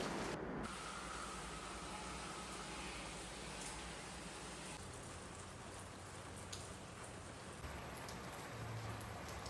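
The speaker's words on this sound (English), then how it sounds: "just do nothing really and just watch the rain" Steady rain pours onto a front yard during the Malaysian rainy season, a dense, even hiss of drops hitting surfaces that stays constant and close throughout, with no voices.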